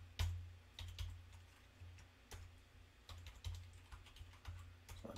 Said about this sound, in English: So I'll type in what I'm doing here.